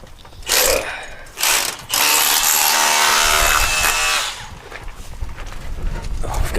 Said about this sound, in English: I've got that rotary hammer. It's a bit noisy